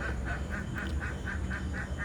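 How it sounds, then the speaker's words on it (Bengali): Ducks and chickens kick up a racket in a yard, with a quick, evenly spaced run of quacks repeating about four times a second over a constant background rush. "এখানটায় মুরগি হাঁস চেঁচামেচি শুরু করেছে"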